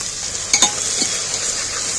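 Garlic paste frying over onions in oil for a mutton curry, giving a steady hissing sizzle with a couple of quick stirring knocks near the start and a softer scrape later.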